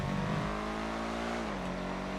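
A Schlagen GT sports car with Ron livery lapping a race in GTA FiveM, its engine droning steadily at high revs with a pitch shift as it changes gear.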